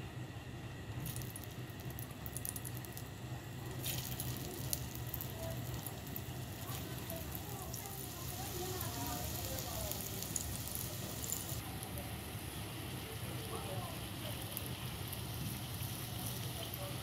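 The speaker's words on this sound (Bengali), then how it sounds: "এভাবে করে গরম তেলে কাবাবগুলোকে ভেজে নেব।" Jackfruit seed kebabs fry in hot soybean oil on a griddle, a steady close crackling sizzle that continues without a break.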